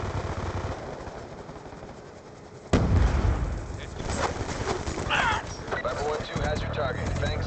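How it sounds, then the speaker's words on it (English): Hellstorm missile strike and gunfire in the shooter game Black Ops 2: a sudden loud blast partway through, followed by rumbling debris and scattered shots, while a voice talks over the action. "Hellstorm missile inbound"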